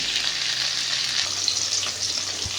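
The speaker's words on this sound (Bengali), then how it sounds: "আলু ভাজা হোক" Potatoes fry in hot oil in a home kitchen pan, a dense, steady sizzle heard close up with no voices.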